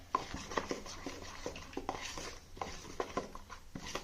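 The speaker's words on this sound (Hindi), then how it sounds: "इसको अच्छे से हम मिक्स कर लेंगे" Flour mixed with cumin and baking powder in a bowl for namak pare: soft, quiet scraping and tapping of a spoon against the bowl in an irregular rhythm, with no talking.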